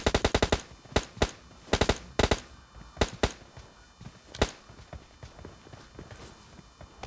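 Gunfire in the PUBG Lite battle royale game: rapid bursts of sharp shots, several quick volleys early on followed by scattered single cracks, fairly loud and close, with no talk over them.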